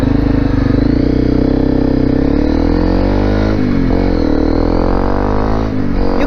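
A loud Honda CRF250L Rally motorcycle with an aftermarket FMF exhaust revs and drones close by, its deep throaty exhaust rising and falling in pitch through a couple of throttle changes.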